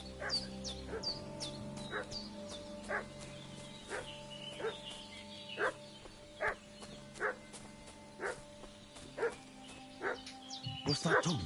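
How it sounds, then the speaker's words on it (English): A dog in Kingdom Come: Deliverance 2 barks in sharp, evenly spaced yaps throughout, moderately near, over a steady ambient hum with birdsong, growing more insistent toward the end. "What's that dog making such a fuss about?"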